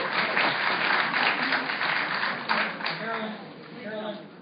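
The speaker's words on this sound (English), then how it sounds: "All we're doing is wasting time by applauding" Sustained applause from an audience at a public meeting on equality, a dense wash of clapping that swells early, surges again briefly, then thins, with voices talking beneath it toward the end.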